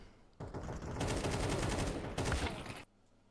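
Sustained automatic gunfire in Counter-Strike 2 on the Vertigo map: a loud, continuous rattle of rapid shots lasting over two seconds that swells midway, then cuts off abruptly into near silence.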